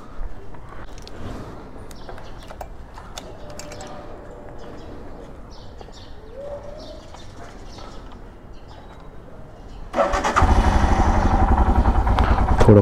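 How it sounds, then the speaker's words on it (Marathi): A Royal Enfield Himalayan motorcycle is cold-started outdoors near a bird sanctuary. Birds chirp quietly at first, then near the end the engine fires and settles into a loud, steady idle close by. "आणि कोल स्टार्ट करूया."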